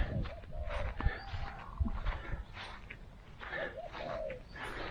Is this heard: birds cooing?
yes